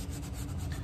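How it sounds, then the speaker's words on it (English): Steady rubbing rasp of sanding leather shoe edges during an Alden shoe restoration, continuous and close, with no voices. "I spend a little time in sanding that smooth"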